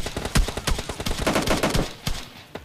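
Gunfire in a mobile shooter game, loud rapid bursts of shots that crackle in quick succession with brief gaps between them.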